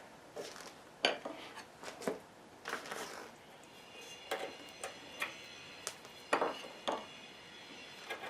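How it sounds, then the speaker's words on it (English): Steel chisel chopping waste from a knife groove in a wooden front stretcher dovetail for a Sheraton work table, heard as a series of sharp taps and knocks at an uneven pace, close and fairly quiet, with no talking. "Stick the chisel right in that knife groove."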